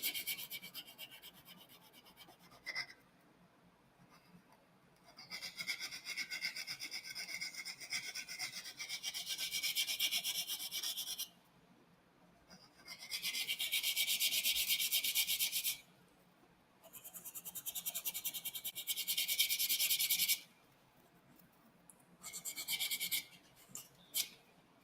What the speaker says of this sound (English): I light blocked over it, sanding most of the paint away from the surface